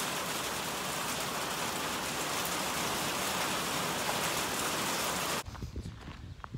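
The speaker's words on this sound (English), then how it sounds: "And here comes the rain." Steady rain pours down outdoors on a sheep homestead on a windy evening, a dense even hiss that fills the scene before cutting off abruptly near the end, leaving a quieter background.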